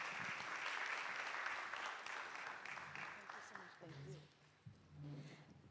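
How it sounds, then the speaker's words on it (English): A room of attendees at a candidate forum applauds as a candidate departs, steady clapping that fades after a few seconds into a murmur of voices and talk. "You can give her another round of applause."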